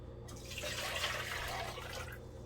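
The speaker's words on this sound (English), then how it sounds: "We're gonna take this liquid that we're straining here, and we're putting it right back to the pot." Strained cooking liquid poured back into a pot, a continuous splashing, gurgling pour lasting a couple of seconds at moderate volume.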